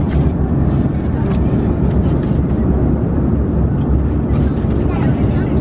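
Steady, loud, unbroken engine roar and air rush fill a passenger airplane cabin in flight, constant throughout with no gaps.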